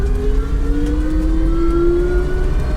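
Electric vehicle with motorcycle handlebars and a 3 kW motor accelerating, a loud, close rising electric whine climbing in pitch over rumbling road and wind noise.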